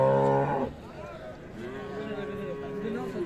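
Friesian cows low at an Ambari cattle market in Dinajpur: one long, deep moo close by, then further drawn-out calls from other cattle against the busy background noise of the market.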